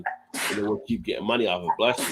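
A single sharp sneeze bursts out at the start, loud and close, followed by a person talking.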